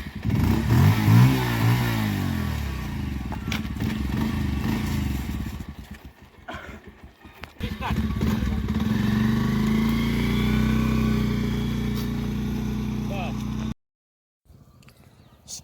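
A motorcycle engine sputters and revs loudly close by, surging and dropping in uneven bursts as people talk nearby, then cuts off abruptly into near silence.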